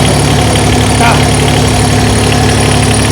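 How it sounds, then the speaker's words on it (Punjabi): A Kaira rice transplanter's BS3 engine idles steadily and loudly close by, a constant low rumble with a faint high whine throughout. "ਆ ਇੰਜਨ ਦੀ ਆਵਾਜ਼ ਤੁਸੀਂ ਸੁਣ ਸਕਦੇ ਹੋ"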